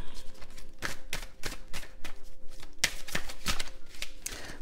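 Playing cards are shuffled by hand in a quick series of crisp riffling bursts and snaps, fairly close and moderately loud, with no talking.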